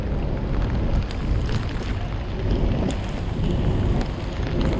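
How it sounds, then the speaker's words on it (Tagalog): Heavy typhoon rain pours steadily with gusting wind over flooded streets in Marikina, a dense continuous roar with no talk over it. "Yan, malakas na yung ulan."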